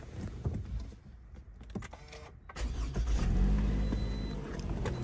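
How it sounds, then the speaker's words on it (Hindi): A car's engine turns over and settles, then rises into a steady driving rumble that grows louder and fuller toward the end. "तो बस अभी फिर चलते हैं गाड़ी करती हूँ मैं स्टार्ट"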